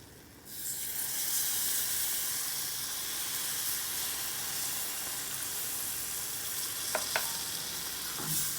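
Milk poured onto ghee and roasting urad flour in a pan, a steady hissing sizzle that rises sharply at the start and holds, with a couple of faint spoon clicks near the end, close and without talk.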